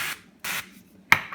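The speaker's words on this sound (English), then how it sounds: "So we'll start by spraying. I'm using using some coconut spray." Coconut cooking spray hisses onto a heart-shaped Dash waffle maker in three short close bursts, the last one briefer and followed by a faint tap.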